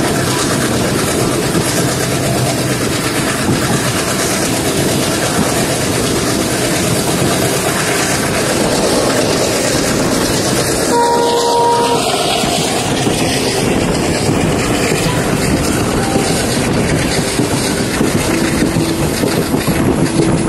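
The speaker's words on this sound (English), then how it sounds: "The train accelerates towards Mandapam after crossing the Pamban Bridge." A passenger train picks up speed toward Mandapam after crossing the Pamban Bridge, with a loud, steady rumble and roar of the engine and wheels running without a break for twenty seconds.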